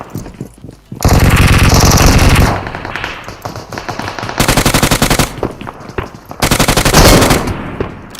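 Rapid bursts of UMP submachine gun fire in a mobile battle-royale video game, three loud sustained strings of automatic shots with short pauses between them, no talking.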